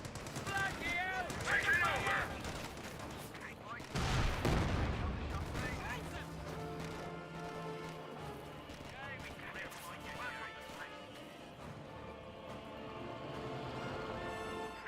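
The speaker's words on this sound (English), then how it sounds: "Comet tank firing away." Comet tank cannon fire in Company of Heroes 2 booms amid a busy battlefield mix, with a heavy low blast around the four-second mark and ongoing gunfire and rumble, while someone talks over the action throughout.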